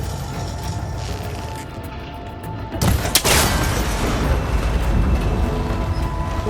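A single sharp shot breaks a cable connector in Horizon Forbidden West, a loud crack and crash followed by a rumbling, debris-filled aftermath, with no talking.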